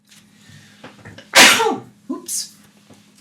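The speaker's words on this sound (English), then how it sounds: "Suddenly had to sneeze there." A single loud, close human sneeze bursts out sharply, followed by a couple of short breathy sounds, with quiet background before it.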